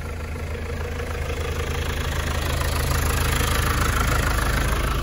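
A tractor engine runs at high RPM while spraying weed killer on hay fields, giving a loud, steady low drone with a constant mechanical hum and no voices.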